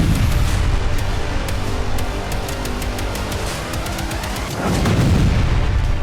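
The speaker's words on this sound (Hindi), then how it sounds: "यह जोरदार धमाका लुहांस्क के कोवलिवका इलाके में हुआ।" Blast from an anti-tank missile strike on a Russian MLRS in the Kovalivka area of Luhansk, heard as a continuous loud roaring rumble with sharp cracking impacts, swelling again near the end.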